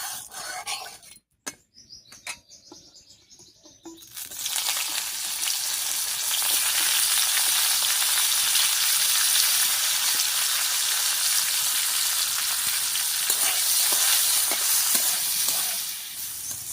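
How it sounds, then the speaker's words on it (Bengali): Bitter gourd fries in mustard oil in a wok, a loud, steady sizzle close by after a few quiet seconds with some clatter at the start. "এবার কড়াইয়ে সর্ষের তেল দিয়ে উচ্ছেটা ভেজে নেব।"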